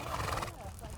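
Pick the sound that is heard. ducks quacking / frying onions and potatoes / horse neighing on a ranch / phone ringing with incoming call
horse neighing on a ranch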